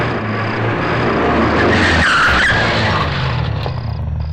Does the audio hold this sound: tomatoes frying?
no